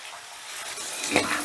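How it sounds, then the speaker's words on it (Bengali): Paneer pieces frying lightly in a pan over medium heat, a soft steady sizzle with a faint scrape near the end, quiet and close, no voices. "এবারে গ্যাসের আঁচটা মিডিয়ামে রেখে পনিরগুলোকে আমি হালকা করে ভেজে নেব"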